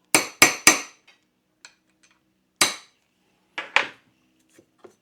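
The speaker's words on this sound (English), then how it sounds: "I'm using one of these punches to slightly round the top. Just a couple of taps." A hammer strikes a metal punch to round the head of a rivet on track guards for a 1/6 scale RC Panzer III tank, giving sharp ringing metallic taps: three quick ones, a pause, then a few more with faint ticks between.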